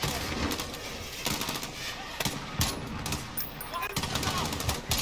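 Automatic weapon fire on the embassy mission of Modern Warfare (2019) at realism difficulty comes in rapid, loud bursts of sharp cracks repeating through the stretch, with dense background game noise.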